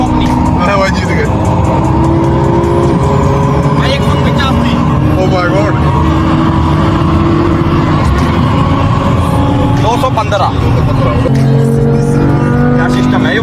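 Lamborghini and Mercedes E53 racing each other on a road, engines roaring loud and steady throughout with brief tire and revving bursts, under continuous excited shouting and talk.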